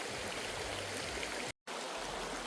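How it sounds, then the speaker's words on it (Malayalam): River stream flowing in Attappadi, a steady soft rush of water with no voices, briefly cut by a moment of silence. "അട്ടപ്പാടിയുടെ ഒരു കാണാക്കാഴ്ചയാണ് കേട്ടോ ഈ പുഴ."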